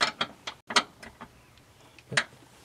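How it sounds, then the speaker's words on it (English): An 18 mm metric hand wrench works a fastener during an RV swivel seat installation, giving a series of sharp metallic ratcheting clicks and clacks in uneven bursts, fairly close and moderately quiet. "18 millimeter metric hand wrench"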